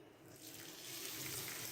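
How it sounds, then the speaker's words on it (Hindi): Water runs from a tap into a cooking pot for sweet colored vermicelli, after the vermicelli has been briefly fried; a steady close hiss and splash swells slightly louder partway through, with no voices. "अब हम यहाँ पर ऐड करेंगे पानी"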